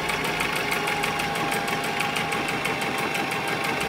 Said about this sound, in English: Start sewing. I need to switch out my bobbin thread and thread the needle.